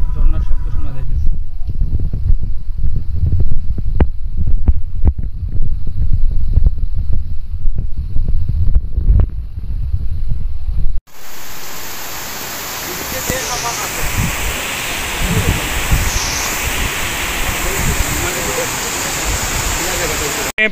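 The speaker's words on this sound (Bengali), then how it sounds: "ঝর্ণার শব্দ শোনা যাইতেছে।" A waterfall in Meghalaya, a loud broadband roar of rushing water and wind buffeting the microphone, with someone talking over it in the first half.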